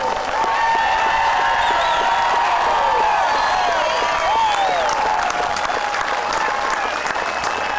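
A large stadium crowd at a high school football game at Harmon Guy Stadium in Hazleton applauds and cheers steadily for Coach George Curry, with sustained clapping, scattered whoops and shouts filling the whole stretch.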